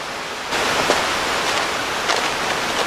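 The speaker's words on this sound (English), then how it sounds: "You can hear that water rushing over to the side here." Water rushes steadily over a waterfall beside the Packsaddle covered bridge, a wooden king post truss in Pennsylvania, as a close, broad, continuous roar that swells slightly louder after the first half second and holds.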